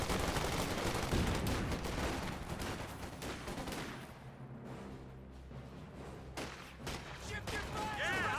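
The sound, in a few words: gunfire in the video game Company of Heroes 2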